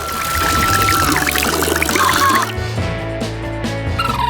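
Water pouring and splashing steadily for a couple of seconds, then a quieter trickle with a hum underneath.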